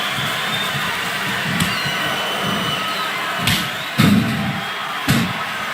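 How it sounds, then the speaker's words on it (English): A large crowd in a wrestling video game (WWE SmackDown vs. Raw 2008) roars in a continuous, distant wash of noise, punctuated by a few heavy thuds and slams. "I cannot remember the last time I've seen a crowd this pumped up."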